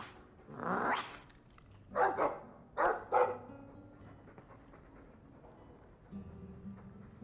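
A dog in the video game Dragon Age 2 lets out one bark followed by a pair of quick barks and a few more, mid-distance, against quiet in-game ambience.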